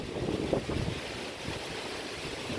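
At Porbandar's Bokhira coast during heavy rain, strong wind buffets and roars over crashing sea waves in a continuous, loud, rumbling wash with no speech.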